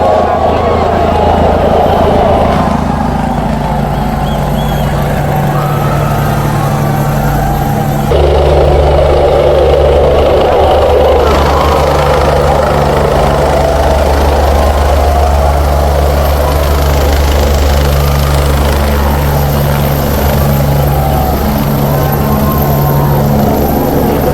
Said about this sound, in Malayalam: അങ്ങനെ ഹെലികോപ്റ്റർ ലാൻഡ് ചെയ്തിട്ടുണ്ട്